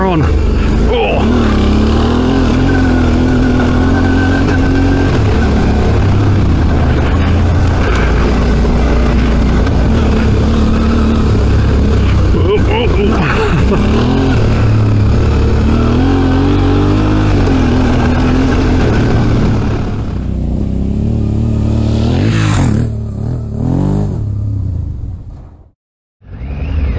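A Suzuki V-Strom 650 adventure motorcycle is ridden hard through sand on an Otways trail. The loud engine revs and surges continuously close by, then eases off near the end with a brief drop to quiet.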